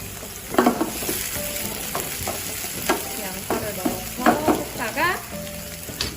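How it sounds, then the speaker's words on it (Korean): Onions stir-fry in a hot pan while a wooden spatula scrapes and turns them, giving a steady sizzle broken by repeated close scraping strokes. "나무 주걱을 이용해서 양파를 볶아주시고요"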